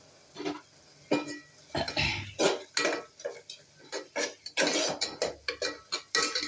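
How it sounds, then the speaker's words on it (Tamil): Spices for a dhaba-style mutton curry are sautéed in a pan, with repeated scraping and clinking strokes of a spatula against the metal in an uneven rhythm, close and fairly loud, with no talking. "மஞ்சள் பொடி ரெட் சில்லி பொடி மீட் மசாலா போட்டு நல்லா வதக்கும் சேர்த்து வதக்கும்"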